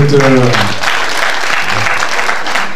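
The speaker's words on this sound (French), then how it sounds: "ne l'applaudissez pas trop" Audience applause welcoming a newcomer at a local gathering, a short burst of clapping following a brief voice at the start, continuing steadily under light crowd murmur.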